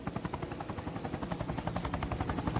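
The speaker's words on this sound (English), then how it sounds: "Big helicopter coming to figure 8." A large helicopter in a video game comes in to land, its rotor giving a steady, fast, loud thumping chop throughout, with no voices.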